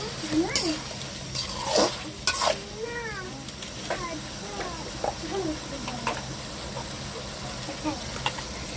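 Chicken frying with masala in a pan, a continuous sizzle with scraping stirs and clanks of a utensil against the pan, while someone talks over it and a cat meows at times.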